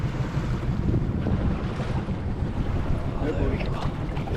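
Boat travelling across a flat, calm sea in the Philippines, giving a steady broadband rush of water and engine with heavy wind buffeting on the microphone throughout.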